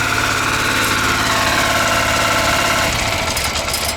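A motoblock cultivator engine runs steadily close by, a loud, even mechanical drone with a throbbing low pulse that eases slightly near the end, with no talking.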